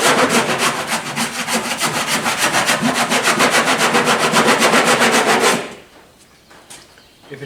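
A body file rasps across car body filler in rapid rhythmic strokes, a loud scraping that pulses steadily for over five seconds, then stops, leaving faint handling noises.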